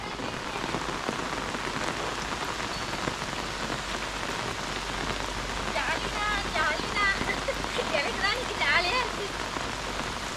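Pouring rain drums steadily on surfaces outdoors during garden work, a loud dense hiss throughout, with faint voices mixed in toward the end.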